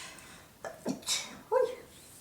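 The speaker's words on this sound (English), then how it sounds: "I'm going to sneeze." A single sneeze bursts out, preceded by a sharp inhale and followed by a brief breathy sound, close and alone.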